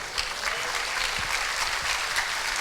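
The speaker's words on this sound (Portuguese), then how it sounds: "Esse aplauso está muito fraco" A Pentecostal church congregation applauds during a worship service, with dense, steady clapping throughout and no talk over it.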